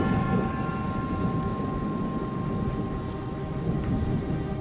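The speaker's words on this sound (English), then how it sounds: "thunder begins to reverberate around the airport" Thunder rolls in a steady, low, continuous rumble around an airport during a thunderstorm, mixed with a dense wash of rain and a faint tonal hum.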